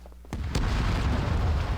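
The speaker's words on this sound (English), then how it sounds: "some explosions blow some holes in that" A sudden deep boom hits in the video game Disney Infinity 3.0, followed by a second blast and a sustained roaring rumble of explosions, loud and close.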